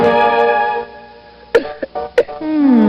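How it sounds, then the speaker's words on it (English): A few sharp coughs ring out close up after a sustained musical tone, each short and abrupt, in a 1990s Dimetap cold medicine TV commercial. "A cough."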